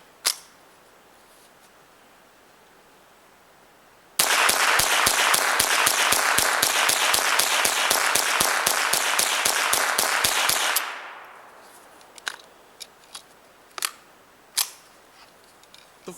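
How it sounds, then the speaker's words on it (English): Ruger 10/22 rifle emptying a BX-25 rotary magazine in rapid fire, a dense string of loud sharp shots over about six seconds, followed by scattered lighter clicks and knocks. "So let's do another BX-25 mag dump right here"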